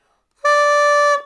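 A single sustained buzzing brass-like tone, forced out with strong breath, starting abruptly and holding steady for under a second before stopping.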